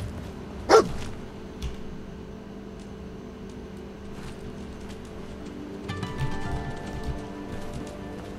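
A single sharp bark comes from a dog in the video game Fallout 4, heard once early and up close, followed by a quiet background of game ambience with soft faint footsteps and a hum.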